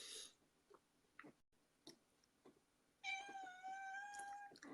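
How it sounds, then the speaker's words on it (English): A household cat meows once, a long clear harmonic cry near the end, close to the mic after a stretch of quiet room noise with small clicks and rustles. "one of them's meowing at me."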